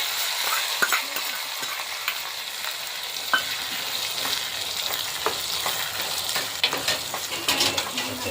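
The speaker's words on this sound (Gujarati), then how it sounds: "સરસ મજાનો વઘાર થઈ ગયો છે તૈયાર" Tempering for a Gujarati tomato gravy with curry leaves, chili and onion sizzles steadily in hot oil in a pan, with scattered crackles and pops and a few light stirring clicks throughout.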